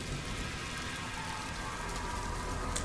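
Light drizzle on a cold autumn night on a deserted dirt road outside a village, a faint, even hiss of fine rain that never lets up, with no voices.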